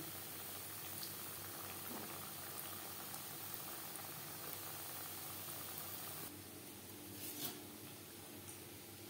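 Khasta goja sweets deep-fry in hot oil with a faint, even bubbling hiss that holds steady throughout, dipping slightly toward the end; quiet and without speech.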